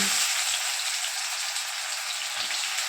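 Onions frying in oil tempered with whole cumin seeds and a little sugar, a close, dense, steady sizzle with crackling texture and no voices.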